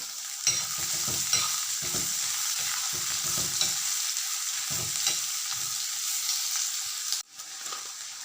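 Chopped onions and shallots sauté in a pan for a restaurant-style fish curry, with a steady hiss of frying under repeated spatula scrapes and stirs; close and continuous, briefly cutting out near the end, with no talking.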